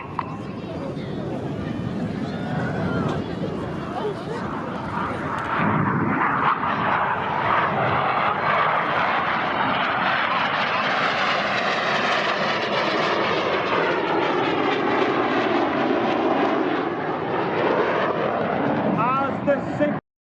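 Red Arrows jets roar past during a Synchro double roll at the Southport Air Show, a loud sustained engine rumble with sweeping pitch shifts as the aircraft pass overhead, filling the whole stretch with a crowd or commentary faintly underneath.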